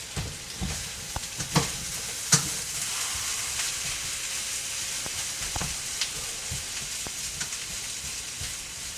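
Potatoes sizzle steadily in a hot pan, a dense continuous hiss broken by occasional clicks and scrapes of stirring, close and fairly loud, with no voices.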